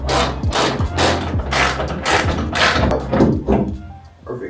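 Bolts being loosened with a ratchet on the hood of a BMW F80, heard as a run of repeated mechanical clicks and clunks, loud and close, with no talking.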